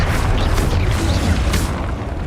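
Stupefy spell cast in Hogwarts Legacy, a dense booming blast with rumbling low end and brief crackling bursts, loud and continuous amid game combat.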